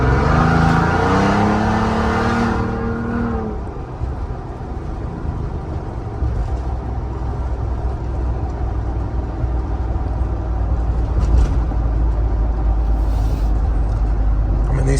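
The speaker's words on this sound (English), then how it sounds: "And get on it right here, that way you can hear the exhaust." Toyota Tundra pickup, non-hybrid, driven at night with its exhaust building a steady low roar under acceleration, a voice talking briefly at the start before the engine note carries on alone and close.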